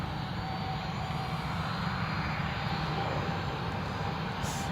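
A fixed-wing aircraft holds on the runway at Newcastle International Airport, its engines giving a continuous, even low roar heard from a distance and steady throughout.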